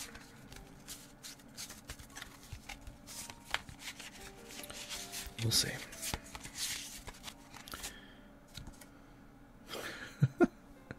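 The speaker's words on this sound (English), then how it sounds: "So we're going to shuffle these bad boys up." Cards for the Dice Throne board game get shuffled on a tabletop in several bursts of riffling and clattering, close and crisp, with a person speaking briefly between the bursts.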